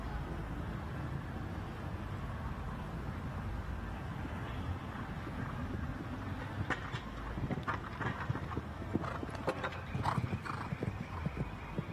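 Horse hooves clip-clopping on the arena ground during show jumping at a royal agricultural show, a steady rhythmic beat with sharper knocks toward the end, mid-distance under faint crowd and commentary murmur.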